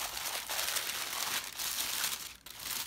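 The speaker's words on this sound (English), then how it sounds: "she has it packaged up in this super cute red and white polka dotted tissue" Red and white polka dotted tissue paper crinkles steadily as it is handled and unwrapped from a package. The rustling is close and continuous, with one brief pause near the end.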